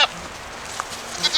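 Goats on a homestead bleat close by in short, sharp calls at the start and end, with quieter rustling between.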